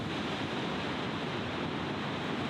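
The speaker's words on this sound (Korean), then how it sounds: "파도들이 쉼없이 폭포를 감싸고 돈다." Water churns around a waterfall in Peru, a dense, steady roar of rushing water and surf, loud and unbroken throughout with no voices.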